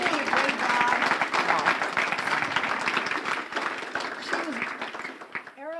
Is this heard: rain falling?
no